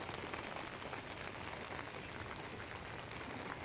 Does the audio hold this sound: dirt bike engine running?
no